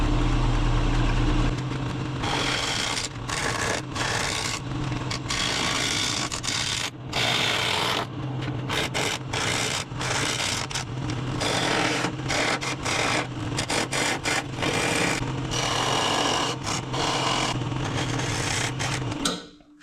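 Wood turning on a woodturning lathe, with a steady motor hum beneath rough, repeated scraping and rasping as a tool cuts the spinning piece, close and continuous throughout.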